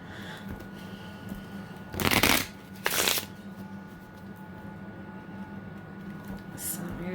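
Oracle cards are shuffled in two short bursts of riffling, close up and crisp, over a quiet room hum.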